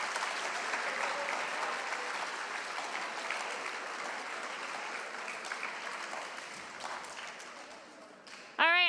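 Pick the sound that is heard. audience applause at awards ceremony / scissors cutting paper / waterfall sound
audience applause at awards ceremony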